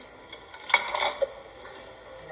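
Metal cutlery clinks and scrapes against dishes in a short cluster while roast pork lechon is sliced at a birthday gathering, then the room quiets.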